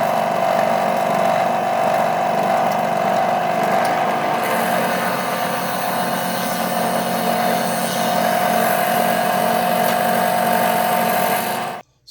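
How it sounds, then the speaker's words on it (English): A drill press runs steadily at close range while its bit depth is set, giving a constant motor whine and hum that shifts slightly partway through and then cuts off abruptly at the end. "So now that I'm at my drill press, I want to set the depth of the bit using the depth setting on the drill press."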